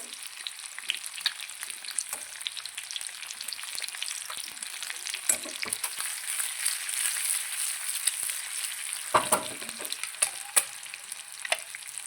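Boiled eggs fry in a pan for palak egg curry, giving a steady close sizzle with light stirring scrapes and occasional louder pops, no voices.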